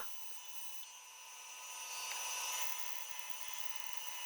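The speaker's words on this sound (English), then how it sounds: "Now over to the bandsaw, trim them in half, and start taking it nice and slowly." A bandsaw runs steadily while it slowly cuts a piece of wood, giving a continuous high whine with a slight swell in the middle. It is heard alone, without speech.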